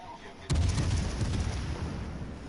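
Battleship main guns fire high-explosive shells in a PS4 naval game: a single heavy boom lands abruptly after a brief quiet lead-in and rolls into a loud, sustained rumble that stays up for the rest of the clip.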